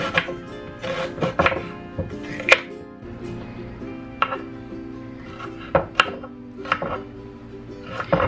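Red onion being chopped with a knife on a board for spicy salsa, irregular close knocks and thuds with short pauses between cuts.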